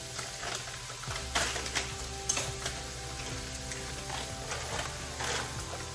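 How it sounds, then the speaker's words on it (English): Shrimp frying in a pan for a diabetic-friendly meal, giving a steady, fairly quiet sizzle with scattered crackles and small pops throughout, and no talking over it. "See the shrimp is starting to cook up"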